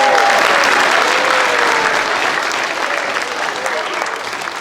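A school audience at a Blue Ribbon ceremony cheers and applauds loudly, the dense clapping and shouting filling the room and then easing off slightly toward the end.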